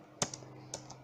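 A few sharp keystrokes on a computer keyboard while entering router configuration commands, two quick pairs of taps spaced apart against a quiet background.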